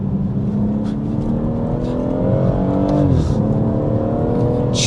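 A BMW M140i Shadow Edition pulls hard in second gear on a road, its engine note rising steadily and loud for several seconds, then briefly dipping as if shifting before climbing again.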